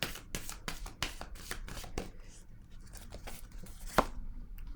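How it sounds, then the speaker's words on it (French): A tarot card is laid down on a table amid a run of sharp papery slaps and shuffling taps, with one crisp snap standing out near the end, close and fairly quiet. "Je vais déposer une autre carte."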